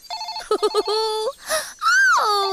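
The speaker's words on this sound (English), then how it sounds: "It's making a ringing noise." A telephone-like ringing in a children's TV show, heard as bright warbling electronic tones with a voice speaking over part of it.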